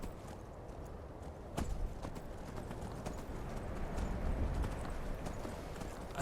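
Horse hooves from riding in the Skyrim video game, a rapid, steady clip-clop rhythm close by that continues throughout over a dense background of game ambience.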